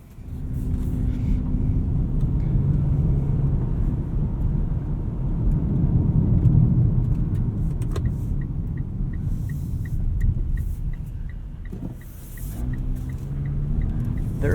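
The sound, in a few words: 2020 Mitsubishi Outlander Sport 2.4 GT AWD driving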